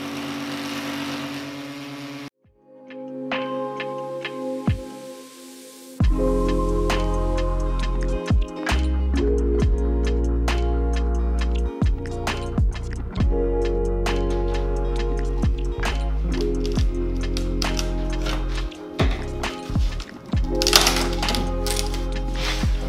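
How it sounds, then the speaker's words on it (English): A homemade CNC router cuts a large fish shape, its motor and spindle whining and humming loudly with shifting tones as it moves. Sharp ticks and clicks from the cutting run over the drone, after a brief quiet start. "This is my first cut on my homemade CNC router machine"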